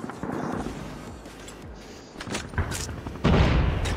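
Sharp video game gunfire: a couple of punchy AWP sniper rifle shots cracking over a busy game soundtrack, the last one loud and booming.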